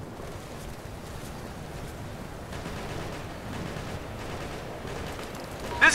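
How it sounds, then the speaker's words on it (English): Operation Flashpoint: Red River battle on a hillside, with sustained distant gunfire rolling in a dense, steady wash of overlapping shots, fairly even throughout with a sharper burst at the end. "They're laying down some serious lead!"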